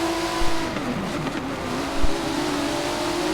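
Prototype race cars in a sim racing game at Road Atlanta, engines droning steadily as they brake into a corner, with a tonal whine shifting pitch and a couple of brief low thumps, no talking.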